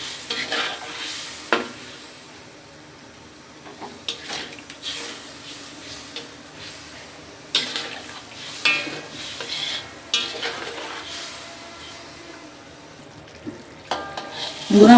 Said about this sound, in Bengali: ভালো করে নেড়ে ছেড়ে মিশিয়ে নেব।